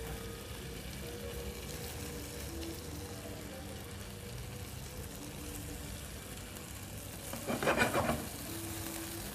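Potato frying in butter in a pan for a fillet steak dish, a steady low sizzle throughout with a brief louder crackling burst near the end.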